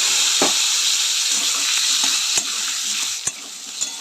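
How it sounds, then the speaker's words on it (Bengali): Potatoes sizzle and fry in hot oil seasoned with cumin and radhuni, a steady bright hiss with a few sharp stirring clicks and scrapes, close and loud with no talking. "ওটা ভাজা হয়ে গেছে, এখন আলুটা দিয়ে দেবো"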